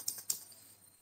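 Light, quiet keystrokes tap on a computer keyboard during accounting data entry in Tally, two quick clicks followed by a faint fading tail, with no voice.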